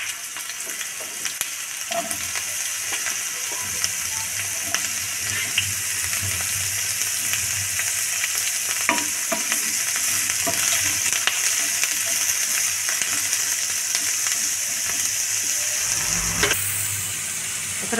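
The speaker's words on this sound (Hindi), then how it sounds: "तेल गरम हो गला, एथर आम कलरा जो काटिक रखी थे पकईद।" Bitter gourd slices frying in hot oil in a pan for a poppy seed curry, a steady close sizzle with occasional stirring scrapes throughout, no voices.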